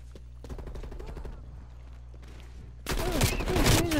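Gunfire in Call of Duty Cold War: rapid automatic shots rattle steadily, then a louder, denser burst of fire with ringing tones erupts near the end.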